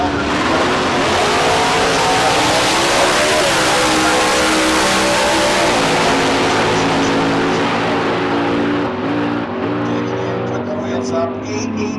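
A 1976 Chevrolet drag race car at a street car drag racing event leaves the line, its loud engine roar sustained and rising through the pass, with an announcer talking over it throughout.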